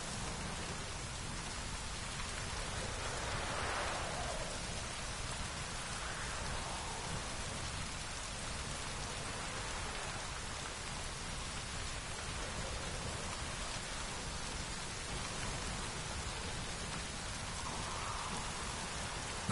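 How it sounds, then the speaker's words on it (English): Steady rain falls in the video game The Witcher 3, a constant even hiss of drops on surfaces at a soft, low level with no voices, continuing without break for the whole stretch. "Looks like rain."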